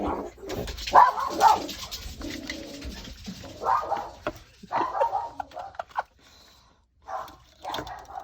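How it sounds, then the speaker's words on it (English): A household dog barks excitedly as someone arrives down the driveway, giving several loud, close bursts of barking separated by short pauses. "I hope that dog barking was not too loud for people that might be wearing earphones."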